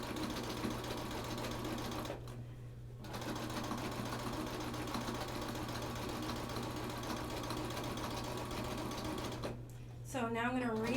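Sewing machine stitching binding onto a quilt, a steady close mechanical whirr that runs nearly the whole time, breaks briefly twice, and ends under a voice.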